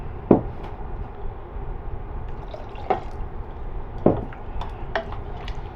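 Water from a tomato can is tipped into a pot of creamy beetroot curry, giving a few soft splashes and drips at irregular intervals over a low, steady kitchen background.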